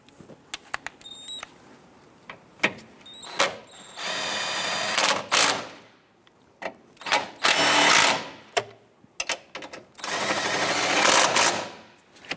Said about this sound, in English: Let's go ahead and tighten down these 3 bolts here.